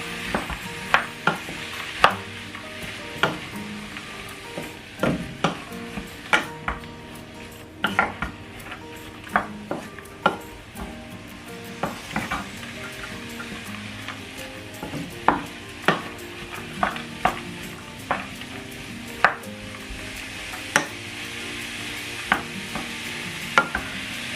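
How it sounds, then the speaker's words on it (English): Bolognese meat sauce cooking in a pan while a utensil stirs it, sharp repeated clinks and scrapes against the pan over a steady low sizzle, close and fairly loud throughout. "Okay guys, so I'm stirring it now."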